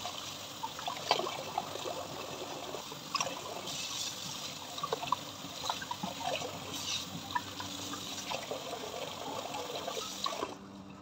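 Tap water running and trickling while fruits are washed, a steady splashing stream with small knocks and clatters, fairly close and without talking.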